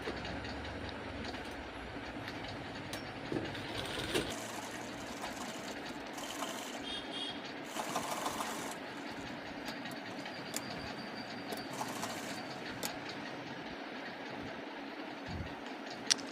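A sewing machine stitching fabric along marked lines for a trouser back pocket, a steady continuous whirring hum throughout, moderately close with slight changes in pace.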